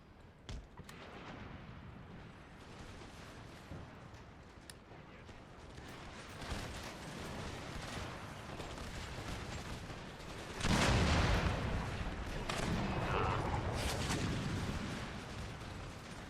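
Howitzer artillery booms in the strategy game Empire Total War, a dense, continuous rumble of distant cannon fire and explosions with a louder burst of blasts partway through.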